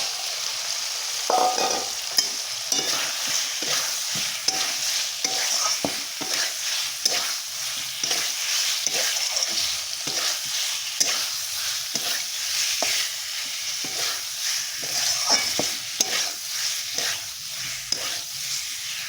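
Pieces of elephant foot yam frying in a pan with spices that are already fried, a constant sizzle under frequent scraping stirs of a spoon, close and busy.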